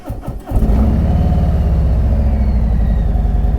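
A 2021 Harley-Davidson Street Glide motorcycle engine cranks briefly, then catches and settles into a loud, steady, lumpy idle close by, with no one talking.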